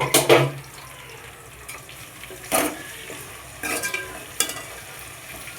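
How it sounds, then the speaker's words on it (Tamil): Steady sizzling of chopped tomatoes sautéing in a frying pan, broken by a few sharp scraping stirs and clinks of a utensil against metal. "தக்காளி நல்லா வதக்கிக்கணும்."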